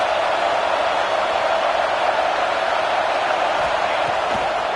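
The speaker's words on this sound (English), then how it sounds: "This crowd trying to make life miserable for this offense." A stadium crowd in the College Football 26 video game roars as a steady, dense wash of cheering at a constant moderate level throughout.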